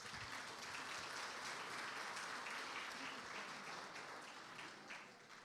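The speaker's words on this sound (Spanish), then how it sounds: "un aplauso." Audience applause for volunteers at a talk on autism spectrum disorders, a dense even wash of clapping from a large crowd, slightly distant and fading toward the end.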